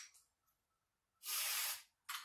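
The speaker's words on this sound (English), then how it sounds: "I use this Q&D electric connector cleaner, and I'll just spray a little bit on each coil" Electric connector cleaner sprays in one loud, steady hiss of about half a second onto an ignition coil connector of a 2003 Honda Accord 3.0L, followed by the start of a second short spray.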